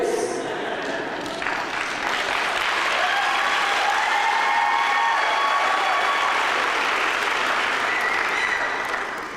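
An audience at a graduation celebration applauds its graduates with sustained, loud clapping that swells and holds for several seconds, with faint crowd noise blended in before it tapers off.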